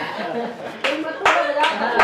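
An audience at a Hindi kavi sammelan poetry recital claps, scattered bursts of handclaps that swell and fade over a continuous crowd murmur, with voices underneath.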